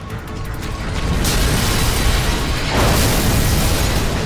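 An in-game explosion in the action shooter Vanquish: a loud, sustained rumbling blast that swells after the first second and rolls on with broadband roar and debris, with no talking over it.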